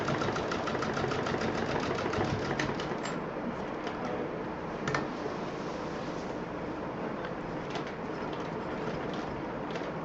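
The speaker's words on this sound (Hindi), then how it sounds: "यहाँ पर डबल सिलाई चलेगी, थोड़ा सा एक चाप का अंतर देते हुए डबल सिलाई हमें करनी है।" A sewing machine runs steadily stitching a double seam on a homemade multi-utility bag, a continuous mechanical whir with a rapid pulsing rhythm that carries on for the full stretch with no talking.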